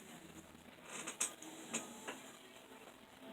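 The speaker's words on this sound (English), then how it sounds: "it's going to do the stitching around the leaf" An embroidery machine stitches the outline of a leaf on an in-the-hoop Easter table runner, giving quiet rapid ticking and a few sharper clicks over a faint steady hum.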